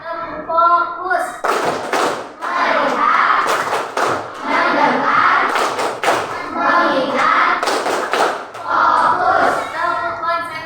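A classroom of students performs a chanted rhythmic clapping routine before a lesson, with sharp group claps in patterned bursts mixed with loud children's voices calling out together throughout.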